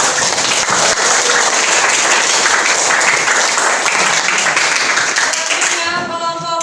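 A classroom audience breaks into loud, sustained applause, dense clapping from many hands that holds steady throughout and tapers slightly at the very end.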